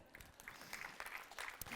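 Audience applause welcoming round-table panel guests onto the stage at a live sports talk event, a steady patter of clapping from a modest crowd lasting under two seconds with no voices.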